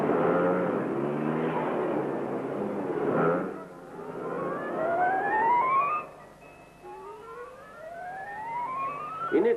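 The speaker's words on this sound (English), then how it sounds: "Here is a special display being carried out by test mechanics on Lambrettas within the factory grounds" Lambretta scooters and three-wheeler trucks driven by test mechanics on Italian factory grounds rev and accelerate. Several rising engine whines sweep upward one after another, fairly close, with no voices.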